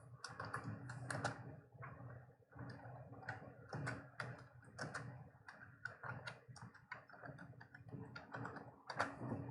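Typing on a computer keyboard while filling in a form: close, quiet, irregular bursts of key clicks run throughout, with short pauses between flurries and no talk.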